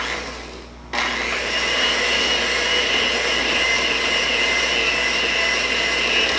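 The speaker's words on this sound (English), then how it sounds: "So remember, we're going to mix slowly." An electric mixer whirs steadily at close range through butter, cream cheese, powdered sugar and milk for cinnamon-roll frosting, starting abruptly after a brief quiet moment and running loud and constant to the end.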